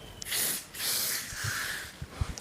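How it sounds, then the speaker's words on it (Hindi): Schwarzkopf Osis+ shine hair spray misted along the lengths of the hair in two long, close hissing bursts, followed by a few soft taps and handling noises. "मैं यहाँ पे लेंथ के ऊपर अच्छे से शाइन हेयर स्प्रे डालूँगा"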